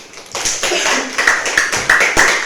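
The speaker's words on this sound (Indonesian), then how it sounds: "Tepuk tangan dulu Rapli." A short burst of clapping from a small group of students in a classroom, a few seconds of sharp hand claps with no talking.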